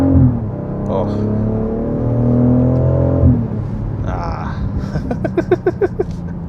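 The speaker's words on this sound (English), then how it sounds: "What I will say though is the engine note, it's just sounds so good." A 2025 BMW X3 M50 on the road gives a steady, fairly loud engine drone for several seconds, then a voice speaks over the fading engine note.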